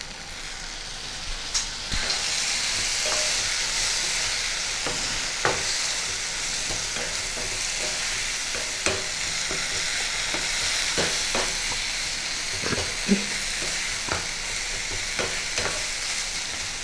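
A steady hiss of frying as grated coconut, ginger paste and fennel powder cook in a pan with a little water, broken by occasional spatula scrapes and taps against the pan.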